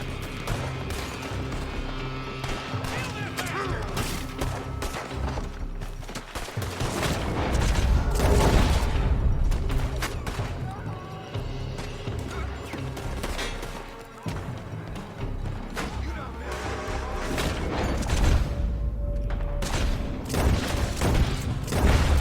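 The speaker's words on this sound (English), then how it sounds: "They're shooting from that building" Video game gunfire coming from a building: dense, continuous bursts of shots and heavy booms mixed with loud battle noise and music-like tones throughout, with no clear pauses.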